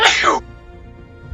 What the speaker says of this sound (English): I had a bit of a sneeze there